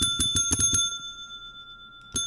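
Bell in a modded Minecraft game: a quick burst of five or six rapid bright dings with a ringing tail, then one more ding after a short pause, clear and close without talk.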